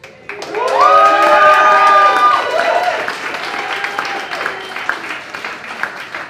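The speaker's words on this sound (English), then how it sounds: "Round of applause to you all." A theatre audience applauds and cheers after a play by playwright Amira Al-Amin, loud clapping mixed with high whoops and shouts that swell early and then ease into steadier applause.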